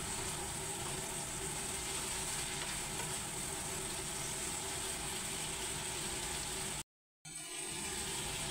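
Okra stir-frying uncovered in a pan with mushrooms and fish cake, a steady close sizzle with stirring throughout, cut by a short silent gap near the end before the sizzling resumes.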